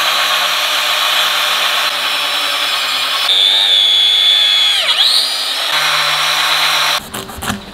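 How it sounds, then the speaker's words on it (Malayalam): A power cutter works on a thick JCB tyre, giving a loud steady high-pitched whine that rises and dips in pitch as it bites. The motor cuts off abruptly, and rattling handling noises follow. "അപ്പോൾ നമ്മൾ കട്ടർ വെച്ചാണ് കട്ട് ചെയ്യാൻ പോകുന്നത്."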